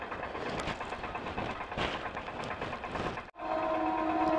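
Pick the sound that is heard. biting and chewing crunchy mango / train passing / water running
train passing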